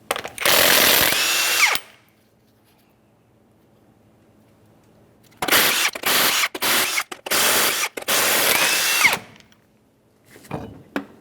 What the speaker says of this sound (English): remove all 6 of your 21mm lug nuts and we can get the wheel off of here